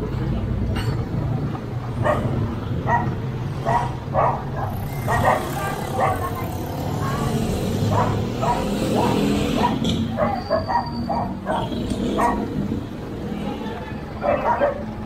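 A dog barks and yips repeatedly at a middle distance while people talk over it, with faint traffic noise in the background.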